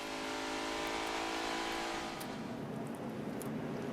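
A 2008 NASCAR Nationwide Series race car at Charlotte roars loudly as the throttle is picked back up, a steady harmonic engine drone that breaks into broader rasping noise halfway through, with no talking.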